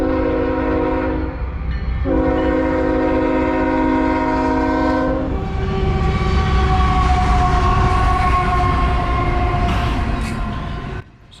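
A CSX freight train, Q500, passing close by, its horn sounding in long, loud blasts over the heavy rumble of the locomotive and rolling cars, which fills the clip until the sound cuts off at the end.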